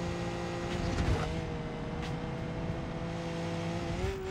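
A car engine in BeamNG.drive holds a steady, sustained drone with a rising pitch near the end, as if accelerating. It sits close and fairly loud, with no talk over it.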